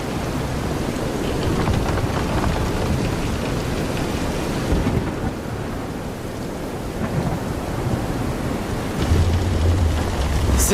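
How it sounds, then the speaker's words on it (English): Heavy rain hisses steadily during a thunderstorm at sea in the video game Visions of Mana, with deep rumbling thunder rolling underneath and a brief lull before the downpour swells again. "This is some storm."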